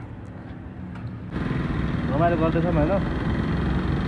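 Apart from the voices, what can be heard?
Splendor motorcycle engine running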